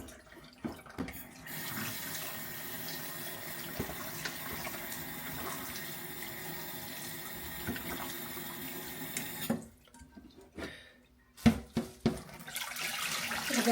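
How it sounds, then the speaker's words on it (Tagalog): Tap water runs steadily into a kitchen sink as food is rinsed clean, a continuous splashing stream that breaks off near the end into a few louder bumps and splashes. "Linisan natin hanggang sa maging maputi yung tubig."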